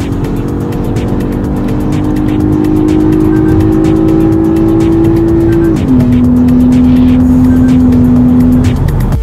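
Lexus IS250 sports sedan accelerating hard from a standstill, its engine tone climbing steadily, dropping at a gear change, then rising again, loud and continuous from inside the car.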